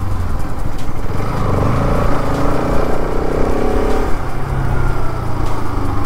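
A Bajaj Pulsar RS200 2023 BS7 faired motorcycle is ridden with a steady, loud engine drone that rises and eases slightly as the rider holds speed.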